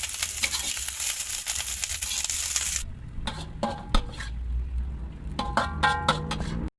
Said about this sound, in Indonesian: serve on the plate